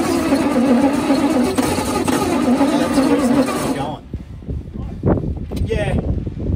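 Close and loud, a 1962 Bedford TJ truck engine is cranked over with a dense, rumbling churn for about four seconds before it stops, followed by scattered knocks and faint voices.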